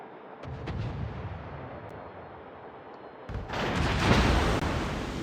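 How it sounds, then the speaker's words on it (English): Naval gunfire in World of Warships, with deep booming shots rumbling at a distance, then a louder, sustained barrage of heavy artillery blasts swelling in the latter half. "I'm going to start getting people firing at me."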